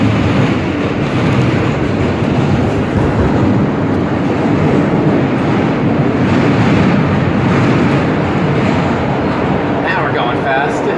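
Steady, loud rumbling roar of an Alstom R160A E subway train running at speed in New York, continuous wheel and track noise filling the car throughout with faint speech underneath.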